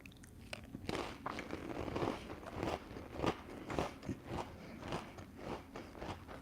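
Someone bites and chews a saltine cracker topped with thin-sliced radish and seasoned butter, producing close, quiet crunches and repeated chewing crackles.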